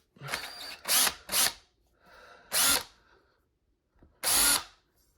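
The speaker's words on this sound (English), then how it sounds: "Alright, I got the power drill." A power drill, set to torque level 3, whirs in several short bursts, two quick ones and then two longer runs, with quiet gaps between them.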